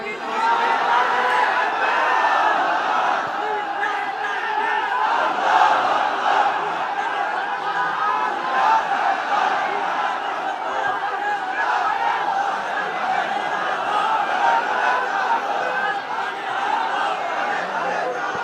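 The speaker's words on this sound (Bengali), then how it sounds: "তাকবীর দেন তো একজন আওয়াজ করে" Large sermon congregation in a Bangladeshi waz gathering shouting the takbir together, a sustained loud crowd roar of many voices that rises and holds for the whole stretch with no single speaker standing out.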